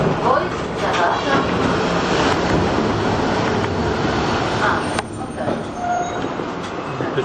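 Riding a tram in Milan: a steady, dense rumble and rattle of the car in motion fills the whole stretch, close and fairly loud, with a slight dip in level partway through.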